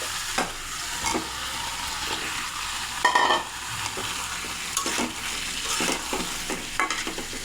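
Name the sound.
fried potatoes added and stirred into chicken curry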